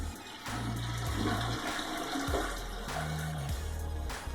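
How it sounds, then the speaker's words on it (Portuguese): A toilet flushes close up with a loud rushing swirl of water that drains and then refills in a steady gurgling hiss, heard alone without talk. "dá a descarga, espera subir e aperta"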